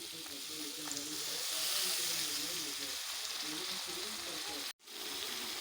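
Onions fry with turmeric and chili in a pan, giving a steady close sizzle and hiss for the whole stretch. The sound cuts out abruptly for a moment near the end, then resumes.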